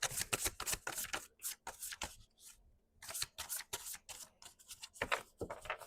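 Repeated crisp riffling bursts of index cards being shuffled, several rapid flurries with short pauses between, close and fairly clear.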